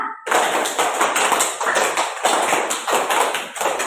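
A group claps a rhythm pattern in a classroom warm-up, a run of sharp, evenly grouped hand claps, close and fairly loud, with little talk around them.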